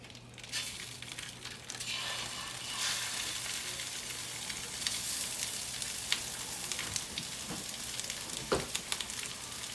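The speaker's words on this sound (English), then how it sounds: "we are going to add our sausage to this pan, and we want to brown this up" Sausage browns in a few tablespoons of canola oil in a pan for pork egg rolls, giving a dense, continuous crackling sizzle, close and even, with a brief crinkly clatter near the end and no talking.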